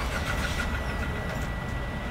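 A car's engine cranking and turning over, the second car in a fuel economy comparison of Pertamax, Shell Super and BP 92 petrol, a steady broadband rumble filling the short stretch with no talk.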